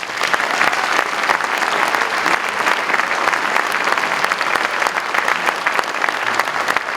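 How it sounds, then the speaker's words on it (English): Audience applause at an elementary school orchestra concert, a steady dense wash of many hands clapping close by for the whole stretch, with no talking over it. "So can we give Dean a round of applause?"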